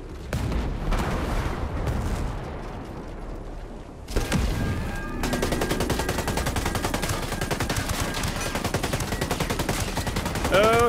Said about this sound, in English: So it's just throwing infinite mortar missiles at me.